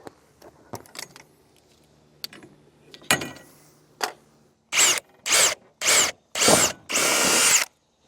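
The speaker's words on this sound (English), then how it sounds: "Now we're going to drill through." Power drill boring through a latch mounting hole for a cam-action latch kit, starting with light handling knocks and clicks, then several short loud drilling bursts and a final longer whir, close and without speech.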